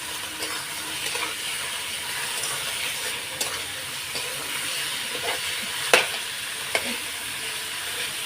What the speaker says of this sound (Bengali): চিকেনটাও দিয়ে দিলাম একটুখানি ভেজে নেব